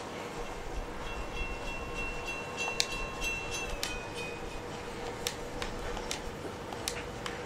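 A train rumbles steadily past in the video game Uncharted 2, a continuous broad roar with scattered metallic clanks and clicks over about seven seconds, moderately loud with no talking.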